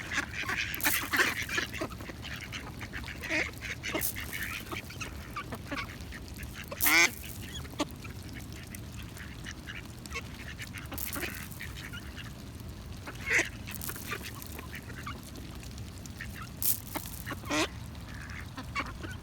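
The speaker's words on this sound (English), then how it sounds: "the crowd of ducks, who were clamoring to get their fair share of the corn" A crowd of ducks clamors for corn at a feeding spot, giving continuous overlapping quacks and honks that are close and busy, with louder calls standing out now and then.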